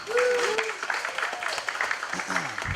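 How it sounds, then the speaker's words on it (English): An audience at a cannabis-lighting efficiency talk applauds Lindsay of Energy Trust, a short burst of clapping mixed with voices and a few calls. "Round of applause for Lindsay."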